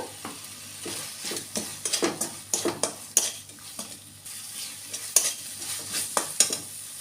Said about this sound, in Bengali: এবার টমেটো দিয়ে পাঁচ সাত মিনিট কষিয়ে নিয়ে কাঁচা গন্ধ চলে যাওয়া অবধি